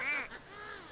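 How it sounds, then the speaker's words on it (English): A duck quacks in the video game Rayman Legends: one brief, clear nasal quack with game ambience continuing underneath. "We have been duck-ized."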